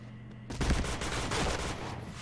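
A loud, sudden burst of rapid video game gunfire in a Thai war-clan shooter match, sustained for about two seconds after a brief quiet moment, with no speech over it.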